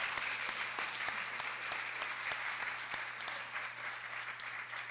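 Conference audience applauding the morning's presenters at a science-of-consciousness meeting; a dense, steady round of many clapping hands, moderately distant, sustained throughout with no speech.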